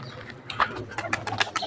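A pigeon bought the previous summer makes soft, close bird sounds in a run of short bursts, with a faint flutter that could be its wings.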